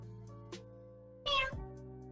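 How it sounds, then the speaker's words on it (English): A single short cat meow rises over a quiet, steady hum, with a faint soft click before it. "a cute cat noise"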